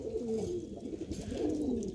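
Pigeons coo softly at a pigeon sale in Lucknow, a couple of low, rolling calls close by over a faint background murmur.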